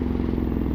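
A 2016 Ducati Hypermotard 969 riding through traffic, its engine giving a steady, close, continuous drone with a low pulsing rumble, heard alone without voices.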